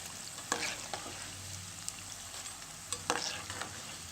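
Maida chips frying in hot oil while being turned over, a soft steady sizzle with a few sharper clinks and stirring bursts, close and fairly quiet, no talking.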